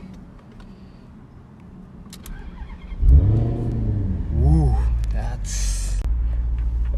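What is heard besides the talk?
Maserati GranTurismo S engine starting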